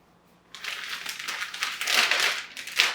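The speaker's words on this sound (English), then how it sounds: "Put this half back in the plastic bag so it doesn't dry out." Close plastic crinkling and rustling, continuous and fairly loud, rising in bursts as the bag is handled.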